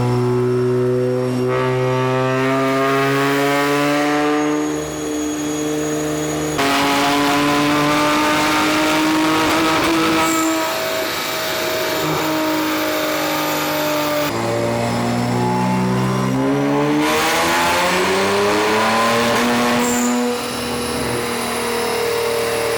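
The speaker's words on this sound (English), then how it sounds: "After a few attempts, the Q60 was ready for some dyno pulls." An Infiniti Q60 engine roars through repeated dyno pulls, its pitch climbing steeply in each loud, sustained run before dropping back and rising again.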